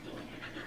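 A dog panting in quick, soft, steady breaths, close by and faint, with no talking over it.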